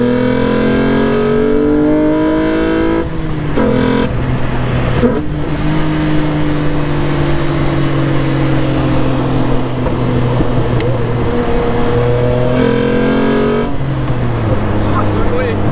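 A Jannarelly Design-1 sports car engine revs loudly, pitch climbing through gear changes with brief drops between shifts, close up and sustained.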